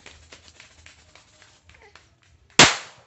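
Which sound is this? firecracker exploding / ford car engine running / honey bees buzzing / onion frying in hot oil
firecracker exploding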